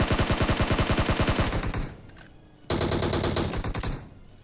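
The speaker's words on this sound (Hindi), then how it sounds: "बगल बिल्डिंग से कोई M4 चला रहा था, दगादग चलाया जा रहा है" Rapid automatic M4 rifle gunfire in the video game BGMI rattles in a fast, steady stream from a nearby building, pauses briefly, then bursts again loudly in a second sustained volley.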